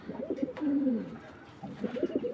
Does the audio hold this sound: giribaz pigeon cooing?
yes